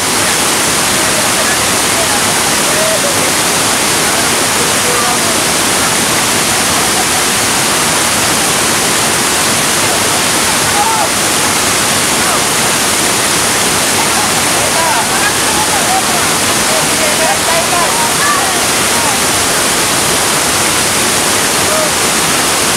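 Rushing water pours down a waterfall in a steady, loud, broadband roar that keeps a constant level throughout without a break.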